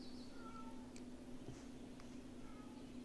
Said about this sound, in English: It's a stray cat, and he whines about everything.